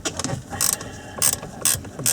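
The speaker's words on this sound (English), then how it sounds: "put in a Torx 30 bit, like so, and get a size 10 ratchet spanner" A size 10 ratchet spanner with a Torx 30 bit loosens a steering wheel screw on an Audi A4, giving four short, crisp metallic clicking bursts close up in a quiet room.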